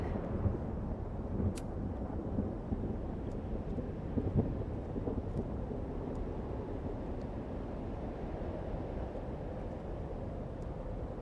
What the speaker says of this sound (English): Okay, the storm's not so bad here.